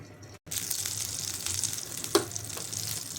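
Oil sizzling as it heats in a kadhai used to cook stuffed brinjal, a steady hiss after a brief gap near the start, with one sharper crackle partway through.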